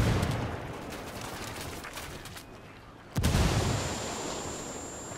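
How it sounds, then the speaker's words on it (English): Mortar shell explosions in Ghost Recon Wildlands: a steady rumble of distant blasts, then one sharp, loud impact close by that rings out over the ongoing din of combat. "Mortars incoming."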